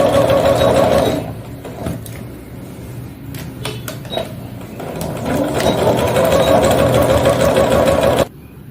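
A sewing machine stitches the front and back panels of a small bag together along the bottom, running in steady loud bursts with a short pause in the middle before stitching resumes.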